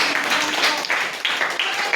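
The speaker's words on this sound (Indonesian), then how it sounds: "berikan tepuk tangan" A classroom of students applauds a school group's presentation, a short burst of scattered hand claps with uneven rhythm, close and moderately loud.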